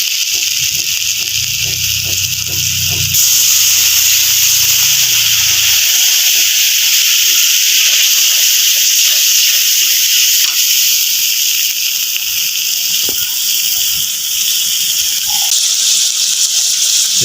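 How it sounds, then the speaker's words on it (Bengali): Water is poured into a hot frying pan of chilli-spiced cooking for a fish curry. A loud, steady sizzling hiss fills the whole stretch, with some clattering early on. "এবার জল দিয়ে দেবো।"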